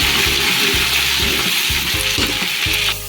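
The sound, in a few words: ginger garlic paste frying in a pan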